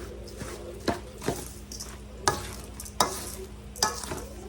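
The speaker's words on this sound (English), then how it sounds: "Stir this all together" Green rice casserole mixture being stirred in a bowl, close spoon scrapes and thick wet sloshes in about five distinct strokes over a low background hum, no talking.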